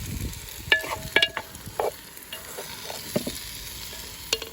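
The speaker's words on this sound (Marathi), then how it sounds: "आनी हांव तें व्हडली पीठ उडयता आनी बरे भाशेन मिक्स करया." Beef chilly fry being stirred in a clay pot over a firewood fire as flour is mixed in, with scattered scraping clatters over a soft, steady sizzle close by.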